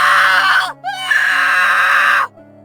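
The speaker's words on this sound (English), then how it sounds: "The boy kept screaming for help, but no one turned up this time." A cartoon boy in an animated fairy tale screams for help in two long, loud, shrill wails split by a brief catch of breath, with no talking over them.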